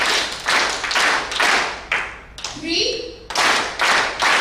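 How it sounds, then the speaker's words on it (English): An audience at a business and leadership forum claps in organized bursts for an executive chairman, several loud rhythmic rounds of applause separated by brief pauses, with a voice counting between them. "we are clapping for an executive chairman"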